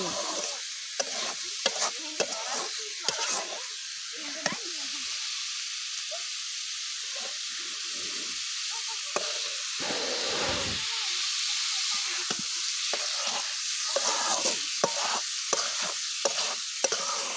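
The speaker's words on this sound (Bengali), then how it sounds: "আর এদিকে হচ্ছে পেঁয়াজের কারি দিয়ে চিংড়ি মাছ আলু দিয়ে ভাজি" Shrimp and potatoes with onion fry in a pan with a loud, continuous hissing sizzle, punctuated by intermittent clacking stirs that cluster at the start and end; no talking.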